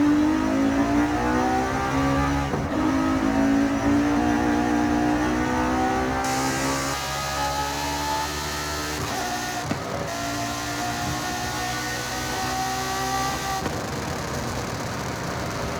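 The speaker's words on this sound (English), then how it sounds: "I'm driving the best sounding car in this game." A car engine in a racing video game revs and accelerates through rising gears, a loud, continuous droning whine climbing in pitch again and again, with brief gear-shift dips and no talk over it.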